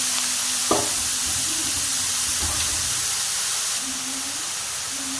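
Grated carrots fry in two spoons of oil for gajar halwa, a steady loud sizzle and hiss with a few clanks of a spoon or pan and some stirring, continuous and close with no voices.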